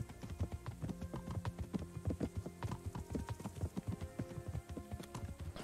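Horse hooves clip-clop steadily and close as a rider travels in the medieval game Kingdom Come: Deliverance, a brisk, even rhythm continuing throughout with no talk over it.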